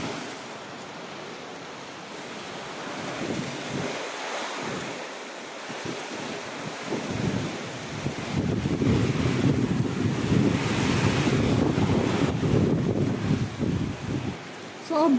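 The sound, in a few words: typhoon wind storm at night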